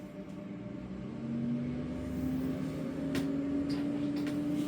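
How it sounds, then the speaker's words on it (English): Garbage truck driving past on a residential street on weekly collection day, a steady engine rumble and rising drone filling the background, with faint clanks on top and no talking. "Excuse the noise, the garbage truck is driving by"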